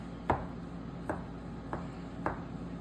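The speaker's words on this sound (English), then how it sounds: "Just kind of rough chopping it." Four sharp knife chops rough-chopping cooked chicken on a cutting board, evenly spaced about a second apart, close and fairly quiet with no voices.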